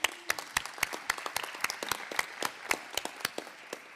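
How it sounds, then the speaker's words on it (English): A conference audience at a tech innovation pitch event applauds a group that just presented, crisp separate claps at a moderate distance with a slightly irregular rhythm, continuing evenly for several seconds without anyone talking. "Let's give one more time to the group that just was up here."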